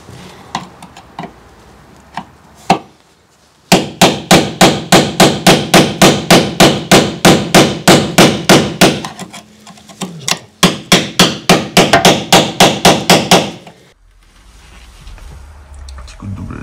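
A hammer taps a small flat screwdriver during a camper van conversion, giving dozens of quick, evenly spaced, loud metallic strikes in two long runs broken by a brief pause, with a few scattered taps before them.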